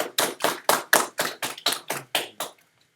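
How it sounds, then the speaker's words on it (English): About ten sharp, evenly spaced hand claps ring out close and loud, each with a quick decay, forming a short round of applause that stops abruptly. "Let's have a nice little round of applause"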